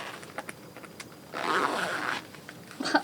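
Zipper pulled up on silver hologram thigh-high platform boots, a raspy close-up zip lasting about a second, followed by a short second zip, amid light handling rustles.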